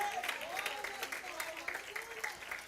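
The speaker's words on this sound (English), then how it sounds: "Clap your hands right there, right there, right there." Church congregation clapping hands during a sermon, steady crowd applause running throughout while a preacher's voice carries on above it.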